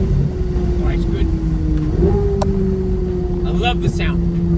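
A Corvette Z06 V8 with the roof down accelerates through a corner in third gear, a steady droning engine note rising slightly in pitch, heard from inside the car while someone talks over it.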